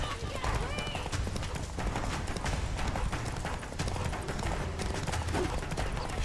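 Hooves of the horse Roach galloping in The Witcher 3, a fast continuous clatter mixed with game action noise and a voice talking over it.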